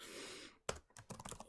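A handful of faint, irregular key clicks tap out on a computer keyboard, close and quiet, after a brief stretch of low background hiss.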